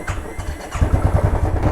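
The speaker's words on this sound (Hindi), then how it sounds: "अभी स्टार्ट करते हैं बाइक को" A motorcycle engine cranks and catches, quickly settling into a close, steady low chugging idle with a pulsing beat.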